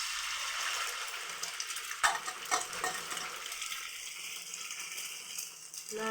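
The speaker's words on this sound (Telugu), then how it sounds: "ఆయిల్ వేడి అయ్యాక కలుపుకున్న మిశ్రమాన్ని ప్యాన్ మీద వేయాలి." An omelette's egg mixture sizzles in a pan of hot oil, a steady broadband hiss with a few brief clicks and scrapes near the start, continuing alone without talk.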